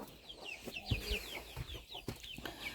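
Hens cluck and chatter nearby in short repeated bursts, with scattered bird chirps and farmyard noise around them.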